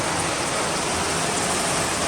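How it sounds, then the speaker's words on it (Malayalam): Heavy rain pours down on an Eid morning, a dense, even hiss of drops that holds steady throughout without any talking. "പെരുന്നാൾ മഴ, പിടുത്തം വിട്ട മഴ, ബലാത്തിയത് മഴ."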